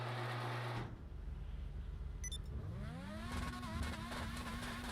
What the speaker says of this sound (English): Let's take the Formula One car.